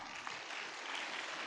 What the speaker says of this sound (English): Claps should not stop.